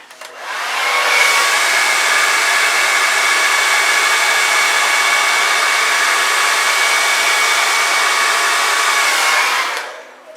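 A hair dryer blows steadily for about nine seconds, pushing fluid acrylic paint around a canvas. The airflow is loud and even, with a smooth start and tail-off and no talking.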